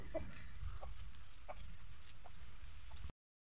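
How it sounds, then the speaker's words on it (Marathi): Chickens released from their coop in the morning on a Marathi farm, clucking softly in a few short scattered calls over steady outdoor background hiss, no talk. "जरा कोंबड्या सोडले."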